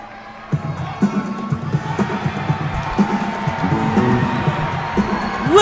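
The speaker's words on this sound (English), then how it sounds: "Listen to the crowd." A wrestling event crowd cheers a ring entrance, a continuous roar with whoops and shrill shouts that swell toward the end, with a commentator's voice faintly under it.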